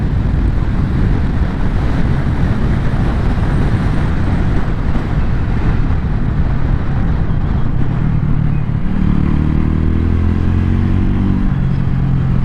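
A Honda CB250RS motorcycle revving hard at around 7,000 RPM, a loud, steady engine drone with wind rush while riding through winding S-bends, with the pitch shifting as the rider changes speed near the end.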